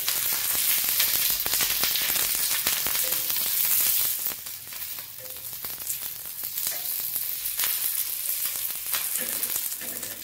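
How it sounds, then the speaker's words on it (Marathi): Green chilies sizzle steadily in a little hot oil on a tawa, a dense crackling fry that eases slightly partway through, with faint scrapes and pops from the chilies being pressed and turned. "तेल गरम झाले की यात मिरच्या घालून मिरच्या चांगल्या भाजून घ्यायच्या आहेत।"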